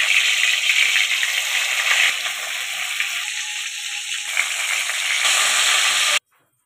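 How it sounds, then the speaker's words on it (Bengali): Chicken pieces fry one by one in hot oil left from frying onions for Golbari-style chicken kosha, giving a loud, steady close-up sizzle that runs unbroken for about six seconds and then cuts off abruptly. "বেরেস্তা ভাজার তেলের মধ্যেই চিকেনগুলো আমি এক এক করে ভেজে নিচ্ছি।"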